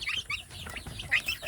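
High, thin peeping calls from young Indonesian native village chicks (ayam kampung), repeated in quick irregular bursts at close range, with no talking.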